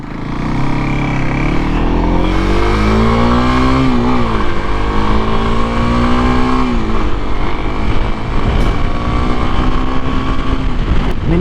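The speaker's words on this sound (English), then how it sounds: "This would be a quick acceleration for us here." Kawasaki KLX 300SM supermoto single-cylinder engine revs up under quick acceleration, the pitch climbing, dipping at a shift and rising again, with loud steady wind and road roar throughout.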